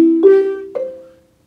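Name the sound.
marimba arpeggio of first, third, fifth and eighth notes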